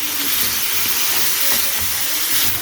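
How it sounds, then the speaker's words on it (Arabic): Chicken liver sizzling in a pan as green chili peppers are added and stirred in: a constant, close, loud hiss of frying with faint scraping underneath. "هنبدا نحطها على الكبده بتاعتنا ونقلب"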